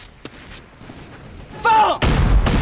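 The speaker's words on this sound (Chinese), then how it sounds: "继续开炮" An artillery cannon fires in an anti-Japanese war film: a shouted voice rises briefly, then a loud, heavy boom lands and rumbles on to the end.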